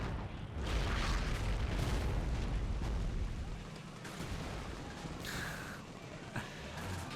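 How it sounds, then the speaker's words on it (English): Deep rolling booms from the video game Men of War Assault Squad during an armoured German invasion of France in 1940, a continuous rumble of distant explosions and artillery under faint voices. "Oh, those explosions are wonderful."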